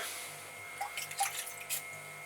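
Water drips and trickles softly as it is cleared from a potter's wheel after throwing swirly mugs. A few faint splashes and drops sound close by over a low, steady hum.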